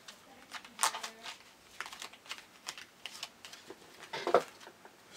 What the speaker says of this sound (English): Some say I am a messy shuffler, and I would agree